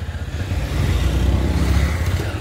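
A motorcycle engine revs in a low, throaty rumble that swells midway and holds steady for a couple of seconds, close by with no talking.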